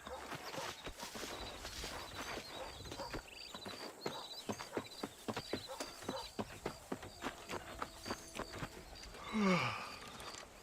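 Horse hooves clip-clop in the video game Red Dead Redemption, a steady, rhythmic run of hoofbeats at walking pace, moderately close and fairly quiet, ending with a short higher sound near the end.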